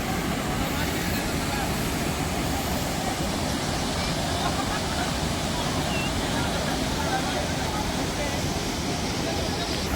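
Kulcharam waterfall in a Karnataka forest, a loud continuous roar of rushing, falling water that holds steady and close throughout, with no break.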